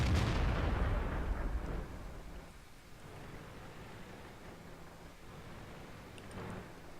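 A tank cannon fires in World of Tanks, an Object 704 gun going off with a loud, booming blast right at the start that fades into a long rumbling tail and low background noise.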